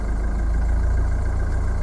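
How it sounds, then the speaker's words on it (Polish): A car engine idles steadily during fuel injector correction diagnostics, with a strong low rumble that holds even throughout without a clear rise in revs. "próbuję troszkę dodać gazu"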